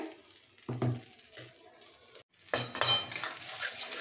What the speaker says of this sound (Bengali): এবার আঁচটা কমিয়ে নাড়তে হবে